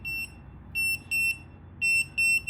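A Portronics Worldtag tracker sounds its emergency buzzer as bursts of shrill, high electronic beeping, clear and isolated, each burst separated by short quiet gaps.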